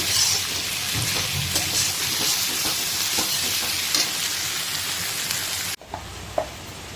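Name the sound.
onions frying in a pan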